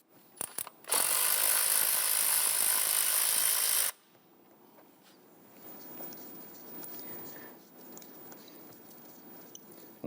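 A 10mm bolt on the ignition coil of a 2011-2021 Jeep Grand Cherokee is loosened and removed: a few sharp clicks, then about three seconds of loud, steady mechanical whirring from a tool, followed by quieter low rustling and handling.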